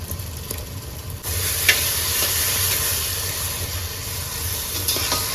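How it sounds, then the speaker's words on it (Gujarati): Brinjal mash frying in a pan sizzles steadily as yogurt goes in, a continuous close hiss with occasional stirring scrapes and soft pops, no voices. "તો હવે નાખી દઈએ દહીં."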